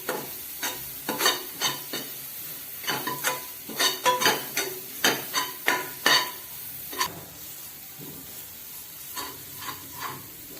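Vegetables being sautéed in a pan for South Indian vegetable sambar, with a spoon scraping and stirring in irregular strokes over a faint sizzle, close by with no talking.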